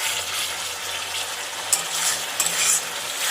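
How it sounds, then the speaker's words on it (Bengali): Masala spices fried and stirred in a pan in a home kitchen, giving a steady loud sizzle with a few scraping clicks of the spoon against the pan. "এখানে মশলা কষাচ্ছি"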